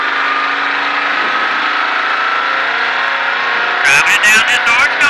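A race car on the Texas Motor Speedway track gives a loud, steady engine drone close by, holding a constant pitch. A voice breaks in over it near the end.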